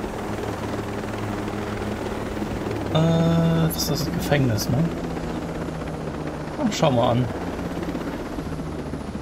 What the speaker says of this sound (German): Packen wir unseren Heli gerade hier daneben.